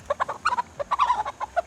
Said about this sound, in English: I gotta play with the chicken.